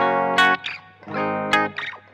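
Electric guitar played through a Blackstar HT Studio 20 amp with reverb, two sharp strummed chords with short ringing decays, close and alone.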